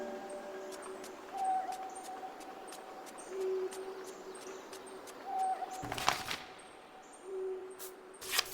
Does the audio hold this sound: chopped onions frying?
no